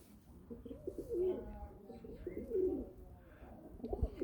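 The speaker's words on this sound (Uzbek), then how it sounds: "Kaptar uzoq uchyapti." Pigeons coo softly nearby in a couple of low, throaty rolling calls, with faint background noise and no clear speech.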